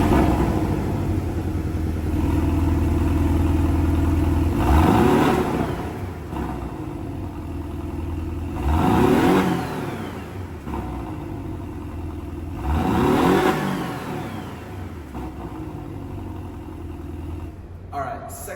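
A turbocharged four-cylinder car on its stock exhaust idles with a steady low drone, then revs up in three separate rising pulls that fall back to idle, heard up close.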